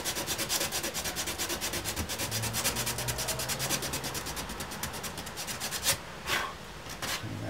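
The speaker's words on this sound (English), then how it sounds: "Sandpaper." Sandpaper rubbed back and forth on a surface, a rapid, rhythmic rasping stroke pattern heard up close, ending with a few slower, separate strokes.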